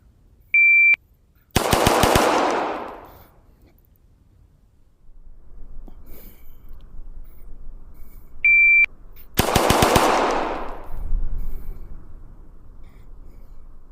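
Two sharp gunshots at a shooting range, each a loud close crack with a ringing decay, several seconds apart, each preceded by a brief electronic beep, with quiet ambience between.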